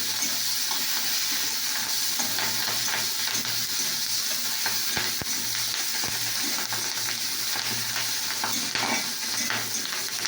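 Fish frying in hot oil in a home kitchen, with a steady, moderately quiet sizzle and bubbling throughout and no talk.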